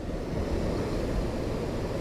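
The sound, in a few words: big powerful ocean waves crashing below jagged rocks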